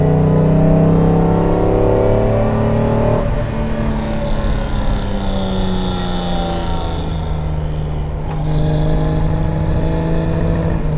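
A recommissioned Mercedes-Benz 300 SL Gullwing drives along with its engine droning loudly and close, pitch rising and falling through gear changes as it pulls steadily, with no talking.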